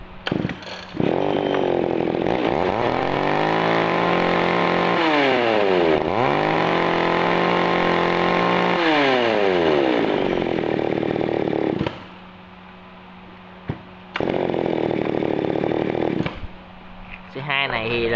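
A small one-handed Tanaka chainsaw revs loudly several times, its whine rising and falling, with idling pauses and someone talking between bursts.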